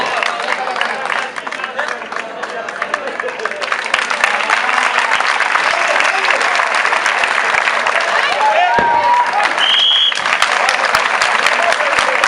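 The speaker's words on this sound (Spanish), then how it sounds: "Aplauso tremendo, queridos amigos." Loud, sustained audience applause at a Basque rural sports festival, with dense clapping from a large crowd filling the whole stretch and brief cheers and a whistle-like tone standing out near the end.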